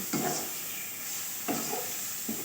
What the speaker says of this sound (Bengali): আর এই লঙ্কাটা দিয়ে আবারও খুব সুন্দর করে নেড়ে নেড়ে ভেজে নেব